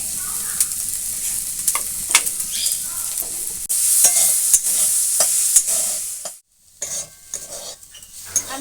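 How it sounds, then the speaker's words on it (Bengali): A spoon scrapes and knocks through chicken chop filling seasoned with turmeric, salt and a little sugar in a sizzling frying pan, giving irregular clinks over a soft frying hiss, with a short pause near the end. "ভালো করে এটা আমি নেড়ে নিয়েছি।"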